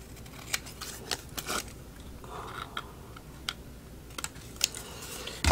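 Scissors snip away part of a paper die cut, giving a close, intermittent series of small crisp cuts with quiet gaps between them and a louder handling thump at the end.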